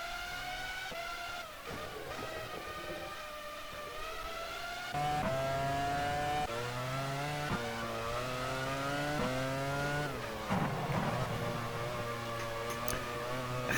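Formula One cars from the 2002 season in the GPRO 2002 racing game, including the two McLarens, whine past on a circuit in Spain, engines rising and falling in pitch through gear changes in a steady, continuous drone.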